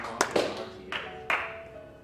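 A few scattered hand claps ring out in a large hall at a live speedrun marathon, with sparse sharp slaps and a reverberant tail and no sustained applause.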